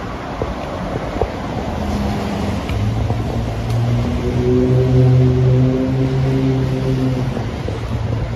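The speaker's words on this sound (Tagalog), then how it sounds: "Dami mga sasakyan guys eh" Busy Friday street traffic in a German town, heard from the pavement: vehicles rumble and pass nearby, and a heavier engine tone rises and holds toward the end under steady wind noise, with no talk.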